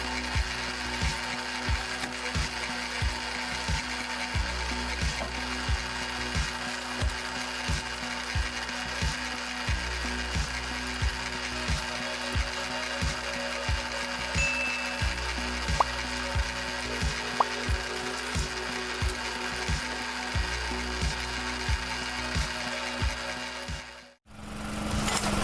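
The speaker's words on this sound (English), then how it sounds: "Using gear drive, the machine is still powerful enough to split these logs in half." An old gear-driven firewood splitter runs steadily with a loud, rhythmic ratcheting clank of gears repeating about once a second, broken by occasional woody cracks before it cuts off near the end.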